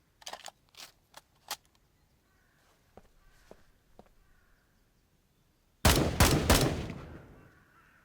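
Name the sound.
unsuppressed gunfire in video game Ground Branch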